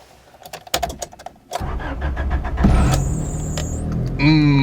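A 1991 Honda CRX in neutral cranks and fires up, then settles into a steady, loud idle close by, with a few clicks and thumps before the engine catches.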